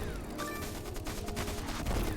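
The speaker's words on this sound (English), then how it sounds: "This is the first time getting to use the creeping artillery." A creeping artillery barrage in the trench-warfare game Stickman Trenches rumbles as rapid overlapping blasts and crackling fire, a dense low-heavy barrage that stays fairly faint and steady throughout.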